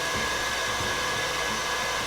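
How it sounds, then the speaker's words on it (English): An electric mixer whirs steadily while beating egg whites with sugar for a Japanese souffle cheesecake, a continuous moderate motor hum with no speech. "then we beat the egg whites"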